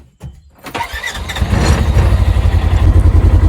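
A bike engine starts and revs up loudly as the rider pulls away, its throbbing exhaust note building and holding steady close by.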